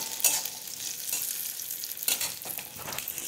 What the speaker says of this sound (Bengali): কালো জিরেটা আমি হালকা ভেজে নেওয়ার পর